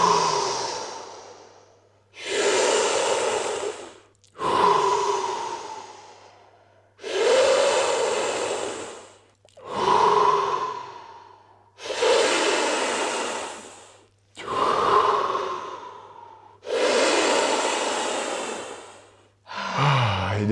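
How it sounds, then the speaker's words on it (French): Deep Wim Hof method breaths repeated about nine times in steady rhythm, each a loud, close full inhale followed by a release, with no talking. "Donc, on va vraiment respirer."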